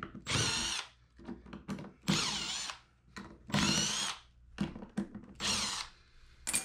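Cordless screw gun driving screws into a shipping box for grinding wheels, with several loud whirring bursts about a second long separated by short pauses, close and alone.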